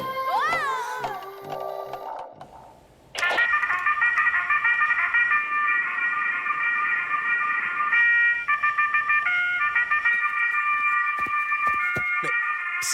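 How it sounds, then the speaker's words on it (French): Cartoon alarm clock ringing loudly and continuously, a steady warbling electronic tone that starts abruptly after a brief cartoon voice and sound effects, persisting for about ten seconds with slight changes in pattern. "Mais c'est mon réveil."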